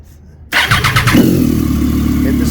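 A 2012 Triumph Daytona 675R motorcycle engine cranks on the starter and fires up. Its loud, close idle settles into a steady rumble after a short burst of cranking.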